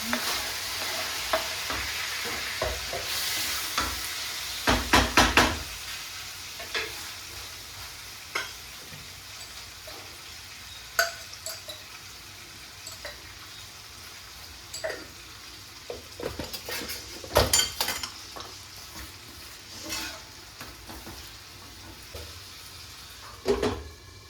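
Onion sautéing in oil in a pan for a Tamil home lunch, a long steady sizzle with intermittent bursts of spatula scraping and metal clatter, close and without speech.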